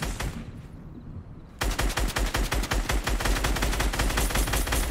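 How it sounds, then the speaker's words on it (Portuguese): Rapid gunfire in the video game Fortnite bursts in suddenly after a quieter opening, with dense, repeated shots in quick automatic strings that stay loud to the end. "Ai, tomei um tiro"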